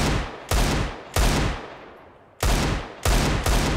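Desert Eagle gunshots in the video game CS:GO: five loud, sharp single shots at uneven intervals, each with a long decaying tail, and no talking.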